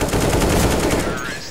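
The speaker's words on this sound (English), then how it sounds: "He just got banned for shooting me with a Glock." Rapid Glock pistol fire in CS:GO, a fast continuous string of loud close shots lasting just over a second before tailing off.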